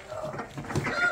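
Several chickens cluck softly close by inside a chicken coop, with short uneven calls over faint background noise.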